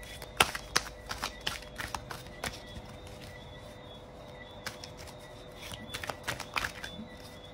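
Oracle mantra cards being shuffled by hand, a run of crisp riffling snaps near and fairly loud, bunched at the start and again near the end with a quieter stretch between, and no talk.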